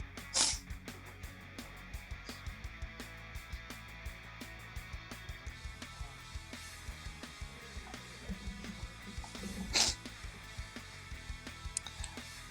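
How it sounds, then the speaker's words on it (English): Two short, sharp congested nasal sniffs, one near the start and one near the ten-second mark, over a steady quiet background; no talking. "Excuse the sniffles, I have a bit of congestion."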